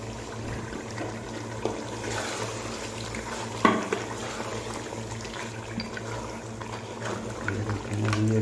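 White mutton karahi with cream simmers in a pan while it is stirred: a steady low bubbling and sizzling with occasional scraping clatter from the spoon, close up and without voices.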